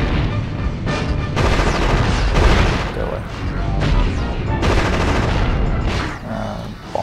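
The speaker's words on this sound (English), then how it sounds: "I'm loving this minigun upgrade." A minigun in the game Future Cop LAPD rattles out long, loud bursts of rapid fire mixed with heavy impacts and booms. Brief pauses break up the steady barrage, and a voice speaks underneath.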